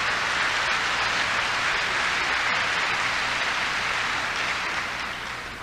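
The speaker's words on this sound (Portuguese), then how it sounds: "Give the Lord a big clap for that." Continuous applause from a church congregation, a dense hiss-like wash of clapping that stays even and then fades slightly at the end.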